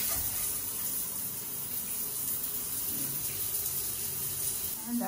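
Tap water runs into a resort bathroom sink at La Cabana Beach Resort, a steady close hiss and splash that carries on evenly throughout.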